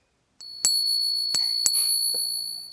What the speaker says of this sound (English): I can also ping the coin.